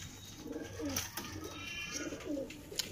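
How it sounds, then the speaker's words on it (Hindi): Soft, low cooing from a desi Kalshira pigeon repeats in gentle rolling phrases, close by, over a faint steady background hiss. "ये कलसीरा देसी कबूतर है उसके बच्चे हैं"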